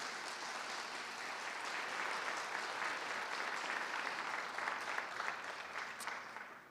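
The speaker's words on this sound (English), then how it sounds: "Let's give another round of applause to Nancy Tingey." A crowd at a school district awards ceremony applauds an honoree, several seconds of steady, moderately distant clapping that fades toward the end.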